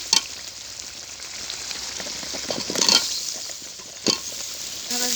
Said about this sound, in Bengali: এখন আমি তরকারি দিয়ে দেব।